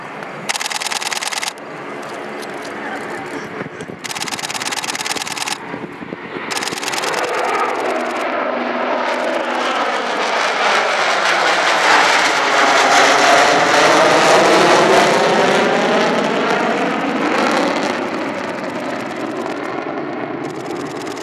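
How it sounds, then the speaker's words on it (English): A pair of B-1 bombers flying a close-formation pass at an airshow produce a loud, sustained jet roar that swells gradually and sweeps in pitch as they pass, then fades slowly. "I got to see 2 B1s in extremely close formation, and to top it all off, here is the video I got of their pass."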